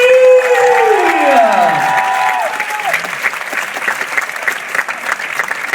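An event audience applauds and cheers loudly right after a falling whistle-like swoop at a world-exclusive Final Fantasy XV reveal, the clapping continuing steadily.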